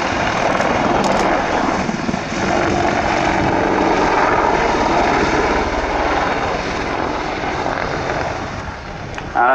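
UK Apache AH1 attack helicopter at an air show flying display, a loud, steady, near rotor and engine roar that holds throughout with little change.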